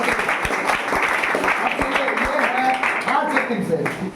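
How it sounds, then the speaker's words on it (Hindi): An audience at a Class 10 boys' quiz competition grand finale claps loudly, a dense crackle of hands with a few sharper claps standing out and a voice speaking over it. "ताली ताली इनके लिए सर।"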